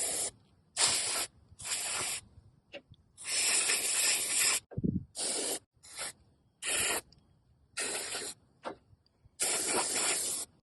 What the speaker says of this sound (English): I'm going to rinse this off with this CRC QD electronic cleaner